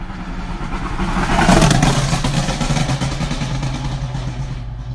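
A BMW M4 engine revs and its exhaust crackles, a loud, close roar that swells in the first seconds and then holds as a sustained, rough drone, with no one talking.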